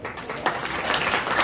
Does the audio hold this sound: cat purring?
no